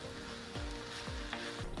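Cabbage thoran fries in a pan with a faint, steady sizzle, close by, punctuated by a few soft stirring knocks, with no one talking.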